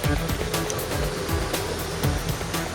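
Ocean waves surge and crash continuously around a racing sailboat driving hard under its biggest sails in the Barcelona World Race, a loud, broadband rush of water and wind with repeated heavier slaps against the hull.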